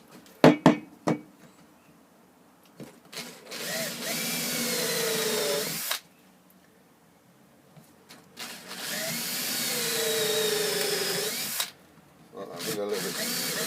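A handheld power drill bores dowel holes in wood in two long whirring bursts of about three and four seconds, with sharp knocks and clatter before them and quiet gaps between.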